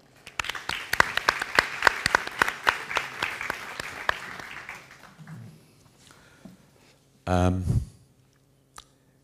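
Small audience at a literary reading clapping, close individual claps in a brisk rhythm that thin out and fade after a few seconds, followed by a brief burst of noise and near quiet.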